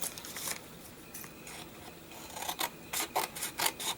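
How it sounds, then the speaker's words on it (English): Scissors handled at a table while crafting a journal, giving faint rasping, scraping clicks that gather into short, quick bursts toward the end, with no talking. "Whoops, there's the scissors."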